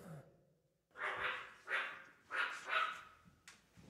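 Four loud dog barks ring out close by in a quick, uneven run after a moment of quiet, with a faint breathy sound at the very start.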